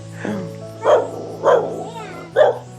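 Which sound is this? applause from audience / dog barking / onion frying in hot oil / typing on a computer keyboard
dog barking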